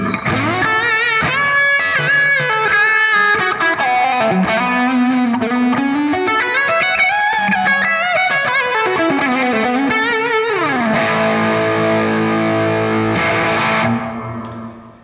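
A heavily distorted electric guitar through a NUX MG30 high-gain lead patch plays a sustained, singing lead line with bends and slides, loud and continuous, ending on a held note that fades.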